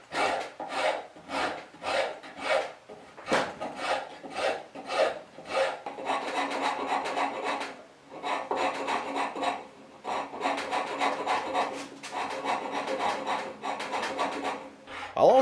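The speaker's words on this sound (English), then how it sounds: "especially with your rasp" A hand rasp scrapes across a wooden knife handle from a kit in quick rhythmic strokes, short separate passes at first, then longer runs of rasping with brief pauses between.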